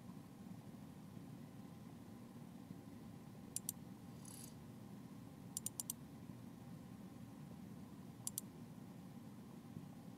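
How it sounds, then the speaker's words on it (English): A computer mouse is double-clicked a few times, giving sharp, quick paired clicks that stand out against a low, steady background hum with no talking. "I actually think it might be faster if I just double click and change them myself."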